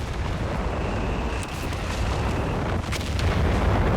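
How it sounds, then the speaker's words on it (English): Artillery barrage in a Company of Heroes 3 2v2 battle: a steady, loud rumbling wash of distant shelling, with sharper blasts punching through it twice. "There's a lot of artillery in this area."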